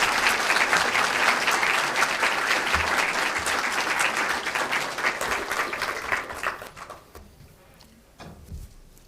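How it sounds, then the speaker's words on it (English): An audience at a portrait unveiling in a hall applauds loudly and steadily for several seconds, then the clapping thins out and fades into near silence with a few scattered claps and knocks. "So can we please give Gaby and the rest of the family a round of applause"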